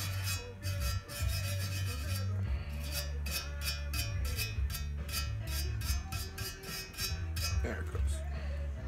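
Stubborn silicone sealant being scrubbed off a Seadoo 951 engine bottom-end part, with rapid repeated rasping strokes in bursts, close up, alongside a low hum and occasional talk.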